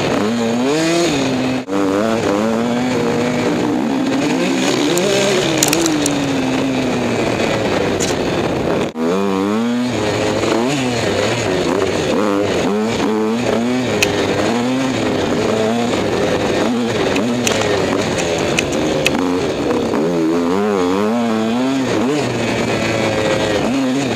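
A KTM 150 SX motocross bike at a 2013 KTM demo ride day revs loudly and continuously, its engine pitch climbing and falling over and over as the throttle is worked, with no talking.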